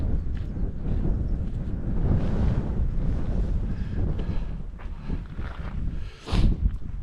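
Strong wind gusts roar steadily across an open mountain track to the Brandy Pad in the Mourne Mountains on a windy day, buffeting the microphone loudly and swelling near the end.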